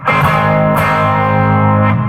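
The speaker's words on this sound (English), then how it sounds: "Here's the sound of the overdrive channel." A loud, crunchy guitar chord through an amp's overdrive channel sustains with gritty distortion, restruck a couple of times, close and alone with no talking.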